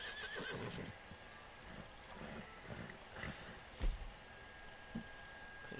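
A horse in Red Dead Redemption 2 Online whinnies faintly amid quiet camp ambience, with soft hoof clip-clops and rustling nearby.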